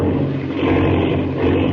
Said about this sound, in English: Jiminy, the plane. Spinning. It's out of control.